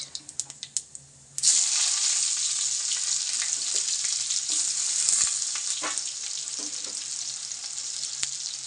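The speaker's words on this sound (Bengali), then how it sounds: "এবার এর মধ্যে দিয়ে দেবো আমি কুচানো পেঁয়াজ" A few light taps come first, then chopped onion drops into hot oil already tempered with cumin, dried chili and bay leaf. A loud sizzle bursts up at once and stays bright and continuous, close by, with occasional soft clinks.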